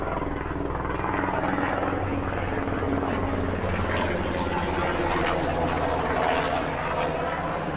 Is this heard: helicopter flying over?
yes